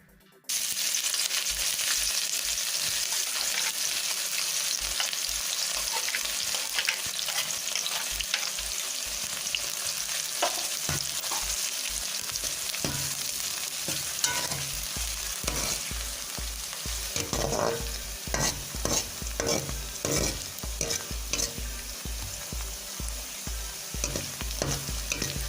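Onions sizzle and fry in a pan for a pumpkin dish, with a steady loud hiss and repeated scraping stirs, growing busier partway through; no talking.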